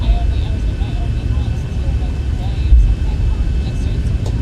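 Steady, loud cabin drone of a Zibo Boeing 737 in a flight simulator game, a continuous low engine rumble with a faint high whine and no distinct changes throughout.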